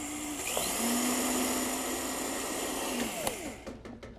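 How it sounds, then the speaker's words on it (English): A food processor runs steadily blending oats, a loud continuous motor whine holding for about three seconds before spinning down and stopping. "use your food processor to do this whole thing"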